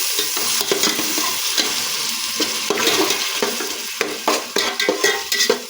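Tomatoes with salt and ginger-garlic paste fry in a pot for khichuri while a spoon stirs them, giving a close, steady sizzle broken by rhythmic scraping strokes that grow busier toward the end.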